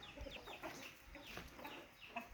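Chickens cluck softly and repeatedly nearby in a rural yard, a scatter of short calls at low volume.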